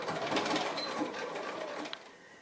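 A sewing machine stitches a scant quarter-inch seam on a fabric pocket book page, with a close, steady rapid whirring and needle chatter running throughout and a small click near the end.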